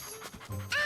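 A small cartoon dog in a French-language Caillou episode pants and whimpers in a brief, soft burst over a busy background.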